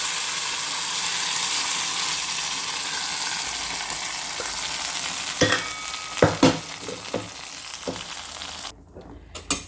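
Cashews crackle and hiss in hot ghee, a steady sizzle, before being stirred into a Sankranti sweet pongal of rice and moong dal. Close clanking spoon strokes against the pan follow, then the sizzle drops away near the end.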